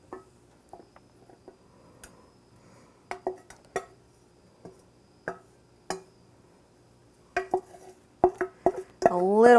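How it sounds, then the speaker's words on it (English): Apples being mashed in a bowl to strain out the liquid, a series of separate knocks and clinks of a utensil against the bowl at an irregular pace, growing busier toward the end, where a voice begins. "I'm going to mash out the apples so that just the liquid comes through"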